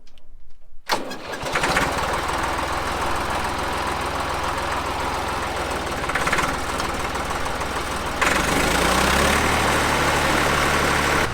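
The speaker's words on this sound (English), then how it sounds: "So let's fire her up. Okay, so first we'll start the stacker." A hydraulic stacker in a soil-screening setup cranks and fires up after a brief quiet moment, then settles into a loud, steady engine run, with the pitch rising toward the end.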